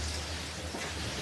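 Heavy rain pours and wind gusts across the water during an 18ft skiff sailing race, a dense, even roar of noise filling the whole short moment with no voices.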